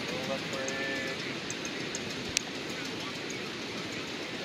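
A paramotor engine at full throttle, a loud steady roaring drone with wind rush throughout, voices shouting over it.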